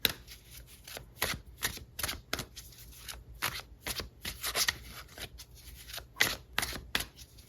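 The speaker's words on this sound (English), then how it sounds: "Let's pull some cards on" Tarot cards are shuffled by hand, with a dense run of crisp, riffling flicks and slaps in quick irregular bursts, close up and without speech.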